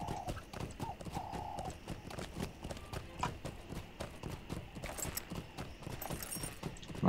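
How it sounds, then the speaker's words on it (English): A horse's hooves clip-clop at a steady trot in the Lord of the Rings Online video game, a continuous even rhythm of hoofbeats with a brief whinny early on and no talking. "I'll get back on my horse, head back to Ulfar and Needlehole."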